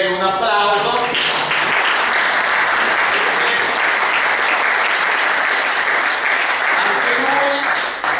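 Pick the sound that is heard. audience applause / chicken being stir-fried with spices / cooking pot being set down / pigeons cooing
audience applause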